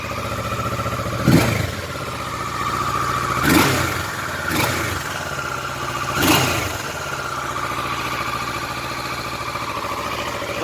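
A 2017 Kawasaki Versys 650 twin-cylinder on its stock exhaust, idling steadily nearby and blipped four times, each rev a short surge before it settles back to a deep, even idle.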